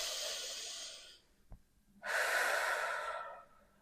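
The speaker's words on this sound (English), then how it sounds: "let me take a breath" A person takes a deep breath: a long airy exhale, a brief pause with a small click, then a loud, close inhale that lasts about a second and a half, with no talking.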